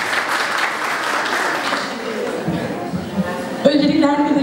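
At a Women's Day commemoration program, an audience applauds to welcome a folk music singer to the stage, clapping that fades out over a few seconds before a voice begins speaking into a microphone.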